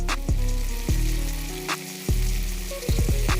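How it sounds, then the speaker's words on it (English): Steak sizzles loudly in a hot pan, a dense steady crackle broken by a few clanks of utensils, with no talking. "that's the sizzle I've been waiting for."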